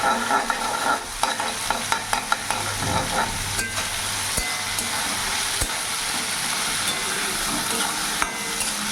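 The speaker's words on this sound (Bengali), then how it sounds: "একটু লঙ্কা গুঁড়ো দিয়ে দিলাম। এইভাবে ঘাটিয়ে নেব।" A spoon stirs ridge gourd fry, made with egg, salt and chilli powder, in a hot pan: a steady, close sizzle runs throughout, broken by repeated sharp scrapes and knocks of the spoon against the pan.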